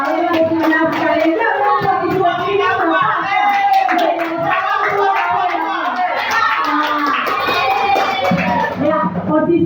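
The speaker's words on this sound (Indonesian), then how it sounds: "berikan tepuk tangan untuk ibu-ibu terbaik" Applause for mothers at a school teachers' gathering in Kupang, loud continuous clapping blended with crowd chatter, cheering and children's voices throughout.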